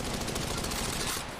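Rapid automatic gunfire from an Apex Legends Mobile battle royale match, a dense continuous burst of shots loud and close throughout, fading slightly at the end.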